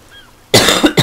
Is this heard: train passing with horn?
no